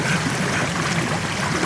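Steady rushing and trickling of a flowing river, a dense even wash of water sound heard alone without voices.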